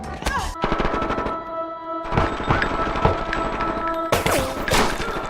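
Bursts of rapid gunfire from a Luke Cage TV episode, dense machine-gun rattles with booming hits over a tense score, loud and near, pausing briefly between volleys.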